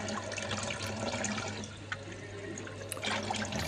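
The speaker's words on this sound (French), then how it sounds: "En moins d'une minute, j'aurai rincé ma cuve de pressage." A thin stream of water runs into and rinses the pressing bowl of a juice extractor, a quiet steady splashing flow close by.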